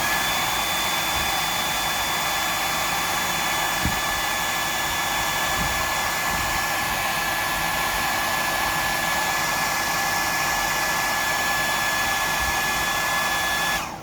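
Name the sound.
blowing air to dry off a lure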